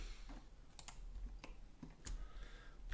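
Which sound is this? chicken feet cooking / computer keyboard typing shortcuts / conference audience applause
computer keyboard typing shortcuts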